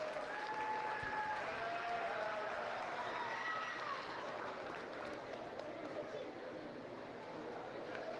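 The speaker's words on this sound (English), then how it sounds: "Give the other two gentlemen a nice round of applause." Applause for showmen at the Monroe County Fair livestock arena fills the whole stretch as a steady, fairly distant wash of clapping, with a few crowd voices mixed in.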